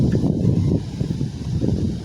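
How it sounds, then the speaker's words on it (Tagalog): Steady low roaring wind buffets the microphone throughout, a continuous rumbling gust with no voices. "Sobrang lakas ang hangin, no?"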